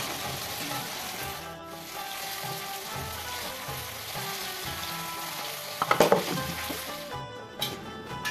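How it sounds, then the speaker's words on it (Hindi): Continuous crackling sizzle of vegetables frying in hot oil, close up, with a brief clatter of stirring near the end. "पहले मैं सब्जी को जो है वो तड़का लगा लूँगी।"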